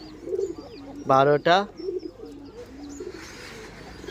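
Pigeons in a newly designed backyard pigeon house coo in low, rolling murmurs throughout, close by, while a person talks briefly over them.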